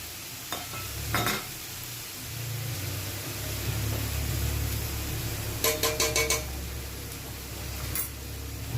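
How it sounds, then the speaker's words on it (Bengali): A spoon stirs ghee into ash gourd dolma cooking in a pan, with scraping strokes, a faint sizzle, and several bursts of rapid metallic clatter against the pan. "ঘি দিয়ে একটু নাড়া দিয়ে এখন নামিয়ে ফেলবো।"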